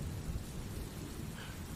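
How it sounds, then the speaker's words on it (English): Low, rolling thunder rumbles beneath a steady wash of rain during a storm, the rumble dominant and close with the rainfall a continuous hiss above it. "The thunder moved farther away, and the rain softened into a gentle rhythm again."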